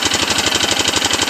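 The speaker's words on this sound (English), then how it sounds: "And she's idling." A 2002 Arctic Cat 375 4x4 ATV engine idles steadily, with a loud, even chugging pulse and a rapid repeating beat and no voices.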